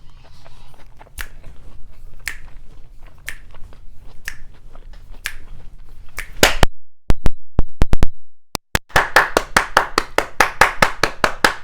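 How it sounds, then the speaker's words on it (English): A young child claps hands in a home kitchen during the cooking of Jamaican ackee and saltfish with dumplings and plantains: scattered single claps at first, then a quick, loud, close run of sharp claps. "My daughter started clapping too"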